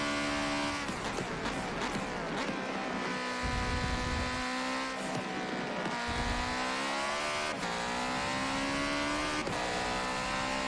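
Engine of a Porsche race car in Forza Motorsport 7, loud and continuous, revving high and sagging through gear changes, with a few sharp throttle blips and shifts, the note held up near the limiter when an upshift is missed.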